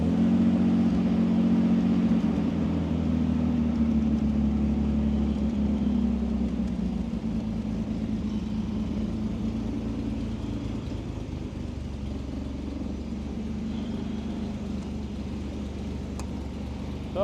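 A 1967 Austin Healey engine running at a steady idle, a low continuous rumble with a faint mid-range whine, close and even throughout with no talking.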